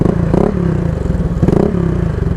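Motorcycle engine that lost its drain plug keeps idling loudly up close, a rough steady chug with clattering mechanical noise and two brief rises in revs.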